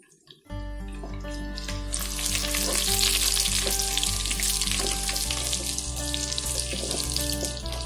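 About a tablespoon of spice drops into hot oil and bursts into a sudden loud sizzle, which then holds as a steady, close hiss of frying.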